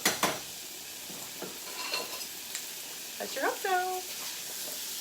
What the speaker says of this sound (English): Can you hear the sizzle on the chicken?